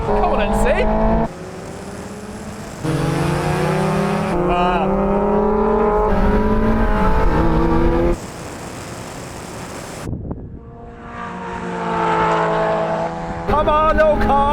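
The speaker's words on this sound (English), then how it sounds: "Now we're going to have a rolling race from 30 miles an hour in second gear." Two supercharged Mazda Roadsters, an NC and an NB, rev hard in second gear in a rolling drag race from 30 mph, with loud engine drone rising in pitch across gear changes, wind buffeting, and voices talking over it.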